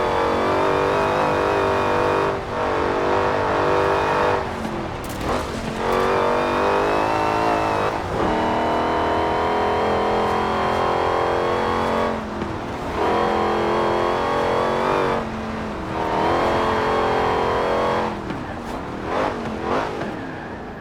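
An Aston Martin racing in Forza Horizon 4, its engine roaring loud and close as it revs through repeated upshifts, the pitch climbing and then dropping at each gear change throughout.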